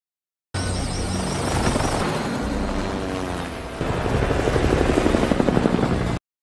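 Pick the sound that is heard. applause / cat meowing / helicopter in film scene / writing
helicopter in film scene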